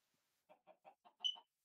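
Chickens in the video game Minecraft Skyblock give six short, evenly spaced clucks, fairly faint, with a slightly brighter squawk near the end and no talking.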